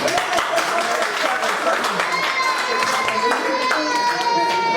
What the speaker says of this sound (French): applaudissez pour ça quand même